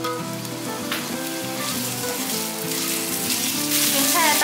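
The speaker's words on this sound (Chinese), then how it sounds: "锅内放入少许的油，油热了之后放入芹菜" Celery stir-frying in hot oil in a wok, a steady dense sizzle and crackle running throughout at moderate level, with faint tonal background music underneath.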